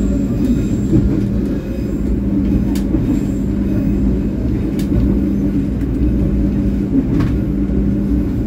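Argo Wilis passenger train running through the Garut hills, a loud continuous low rumble of wheels and carriages heard from on board, steady throughout with faint clicks and squeals above.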